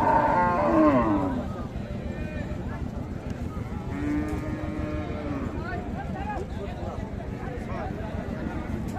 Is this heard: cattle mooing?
yes